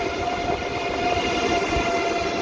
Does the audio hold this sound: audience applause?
no